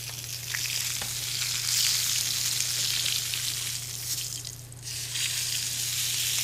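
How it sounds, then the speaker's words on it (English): Fish sears in a hot pan at a restaurant kitchen, a steady loud sizzle with crackling spatter that holds evenly throughout, a low steady hum underneath and no talking. "We're going to pan sear for just a minute or two on one side."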